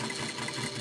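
Sewing machine stitching a washable fabric face mask with a backstitch, a steady continuous whirring buzz close by, running without pause.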